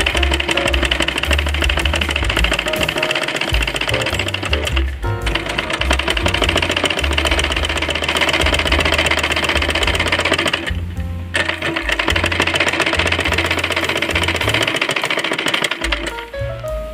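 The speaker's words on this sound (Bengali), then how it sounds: "এইবার একটা সেলাই দিয়ে নেব।" Sewing machine stitching thin piping onto fabric for a child's umbrella frock, a loud steady motor whir running in long bursts with brief pauses around 5 and 11 seconds, no talking.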